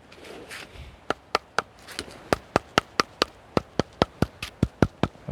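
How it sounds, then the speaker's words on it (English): Two pieces of wood are knocked together outdoors at a wild camp, giving a long run of sharp, hollow, evenly spaced clacks that start hesitantly and settle into a steady, close, fairly loud rhythm. "Get 2 pieces of wood to knock together."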